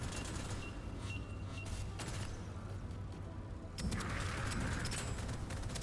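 Gunfire in the roguelite shooter Deadzone: Rogue: a steady, dense fusillade of shots runs throughout, growing harsher and louder in the last couple of seconds, with no talk over it.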